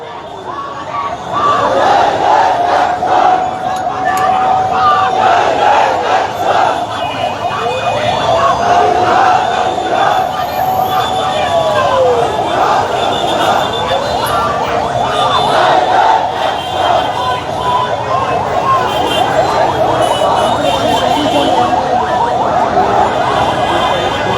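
A huge crowd at a March for Gaza rally in Bangladesh chants slogans in loud, rhythmic waves, with shouting and cheering layered throughout, dense and continuous with a distant siren-like wail mixed in.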